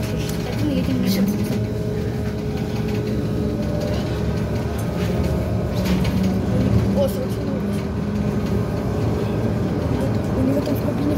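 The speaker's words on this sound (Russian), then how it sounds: "Мы на троллейбусе 46-61, едем в Минск." Inside a moving BKM 321 trolleybus, a steady low hum of the electric drive and road rumble runs continuously at moderate level, with people talking over it.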